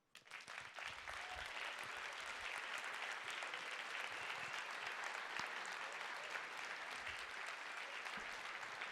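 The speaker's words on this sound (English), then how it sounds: "Please give him another big round of applause." After a leadership speech, an audience breaks into applause that swells quickly from quiet and holds as a thick, sustained roar of clapping, heard from a distance in a large hall.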